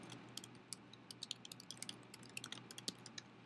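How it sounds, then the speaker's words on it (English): Steady typing on a computer keyboard, a quick irregular run of light clicking keystrokes, close but soft, with a faint hum underneath and no speech. "simply type directly into each field"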